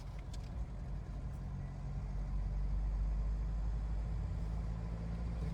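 A Mahindra Bolero Neo Plus 9-seater's 2.2 mHawk diesel engine cruising in sixth gear at around 60 km/h gives a steady low drone and road rumble that holds evenly throughout, with no talk over it.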